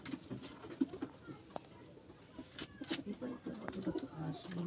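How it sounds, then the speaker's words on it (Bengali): Chini kaldum pigeons coo softly and shuffle in their enclosure, with scattered light pattering and fluttering. Voices murmur faintly in the background, and the scene sounds fairly quiet throughout. "বাহ, কত সুন্দর পায়রা।"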